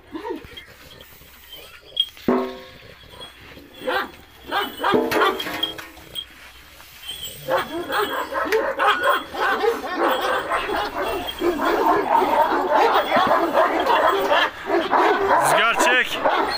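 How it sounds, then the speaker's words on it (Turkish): Dogs being fed minced meat bark and yip excitedly, sharp barks scattered early then a busier overlapping burst of barking and whining, with a person talking to them throughout. "köpeklerimizi kıymayla besliyoruz"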